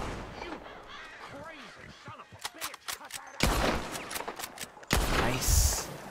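Lever-action rifle shots ring out in Red Dead Redemption 2, a few sharp bangs with echoing tails amid game noise and crow calls, heard under someone talking.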